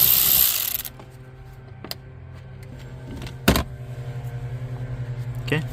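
Ratchet wrench turning a 10mm bolt under a Dodge Ram dashboard: brief clicks and a sharp metallic clatter mid-clip, then a steady run of even ratcheting clicks, close by in a quiet cab.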